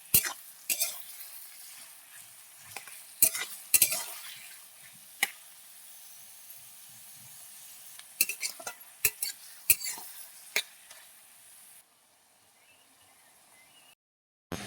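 Onions fry in mustard oil in a pan, a faint steady sizzle broken by sharp scrapes and clinks as a utensil stirs them, with quiet stretches between the strokes.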